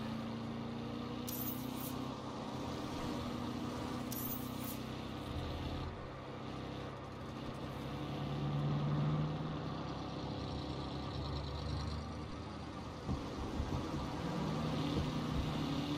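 A car engine idles and revs softly in Saints Row, a low steady rumble with mild swells, faint and continuous throughout.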